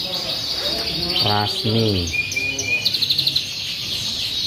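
Canaries chirp and trill in a bird shop selling imported breeds, rapid bright calls running throughout while someone talks over them in the foreground.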